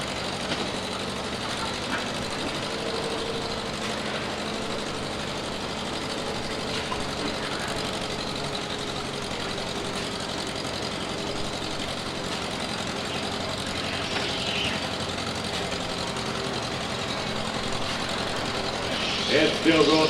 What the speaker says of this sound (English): Got that Farmall H sounding pretty good.